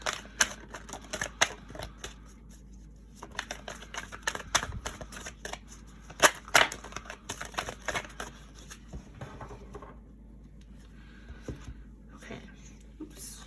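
Tarot cards handled and shuffled during a reading, with scattered crisp card snaps and flicks in quick irregular bursts, loud at moments and softer between, with no talk over them.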